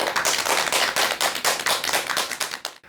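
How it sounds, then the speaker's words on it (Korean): Dense, steady applause from a lecture audience, many hands clapping continuously before fading out at the end. "여러분 큰 박수 부탁드립니다."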